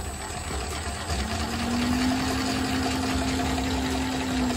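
Famag IM5S spiral dough mixer spinning up to top speed 10, a steady mechanical whine that rises in pitch and then holds, with a constant motor hum underneath.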